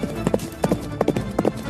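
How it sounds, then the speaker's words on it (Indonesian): Horse hooves galloping as an audiobook sound effect, quick clustered clip-clop beats in three or four rhythmic bursts, close and crisp. "terdengar suara keras dari derap kaki kuda terdengar"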